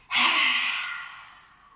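A single forceful breathy exhale with the tongue out during a beginner morning yoga routine, starting sharply, then fading over about a second and a half, close and alone.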